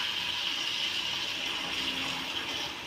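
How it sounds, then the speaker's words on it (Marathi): Hot water pours steadily into a pan of pigeon pea usal, a continuous rushing splash that holds at an even level throughout. "आता आपण गरम पाणी जे आपण तापवलेलं होतं तर ते पाणी आपण त्या उसळीमध्ये टाकूया"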